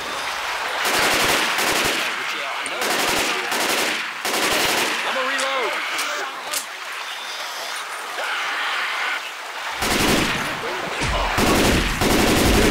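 Rapid bursts of auto shotgun fire in Left 4 Dead 2, loud repeated volleys with brief gaps, over game noise and a few background voices.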